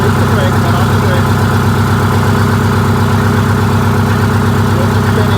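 A vehicle engine runs with the brake released and the wheels spinning, giving a loud, steady, unbroken drone with a rough low rumble and broadband vibration for the whole stretch.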